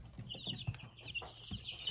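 Young chicks housed in a cardboard box, giving a quiet, steady run of soft peeps and chirps close by, with light taps and scuffles in between.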